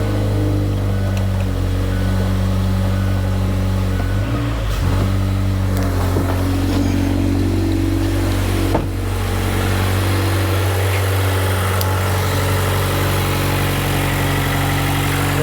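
Mazda 3 engine idling after starting in a garage, following clutch replacement: a steady, close low hum with a faint rattle and a brief disturbance partway through, then an even drone with no talk.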